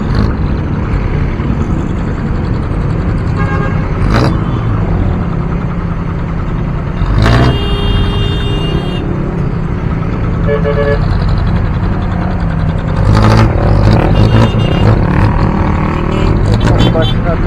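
Busy road traffic with buses and cars in Metro Manila during Undas, engines rumbling while car horns toot in short bursts several times, with people talking over the din.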